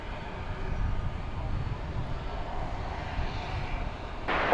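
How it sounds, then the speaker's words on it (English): An American Airlines passenger jet on approach to DFW Airport at night, its engines giving a steady, moderately distant roar throughout, with a brief brighter noise near the end. "Our next incoming flight is American 2177 from the city adjacent to the bay"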